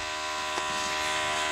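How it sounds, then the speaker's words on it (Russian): A small toy vacuum cleaner runs with a steady, thin electric hum and whine, close and continuous without a break, with no talking over it. "Пылесос, конечно, какой-то слабоват."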